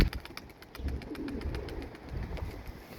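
Pigeons coo softly and repeatedly, low throaty calls over a steady background hum.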